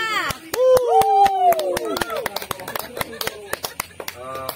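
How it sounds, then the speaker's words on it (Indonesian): Scattered, sharp hand claps ring out from a small audience at a year-end literary reading stage, spaced irregularly beneath someone talking and laughing. "Beri tepuk tangannya Gloria"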